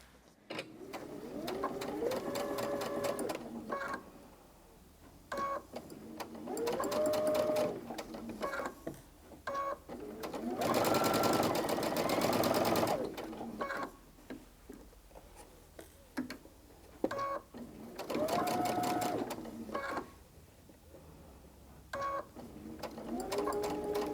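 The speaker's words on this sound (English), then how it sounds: "take it to the machine and get sewing" Sewing machine stitching half-square-triangle quilt block pieces, running in several bursts of steady mechanical whirring separated by short pauses, close and fairly loud, no talk.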